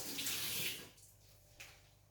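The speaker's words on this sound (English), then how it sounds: "Just wash off the gloves." Tap water runs while gloves are washed off in a kitchen, a brief close gush that fades out, followed by a short splash near the end.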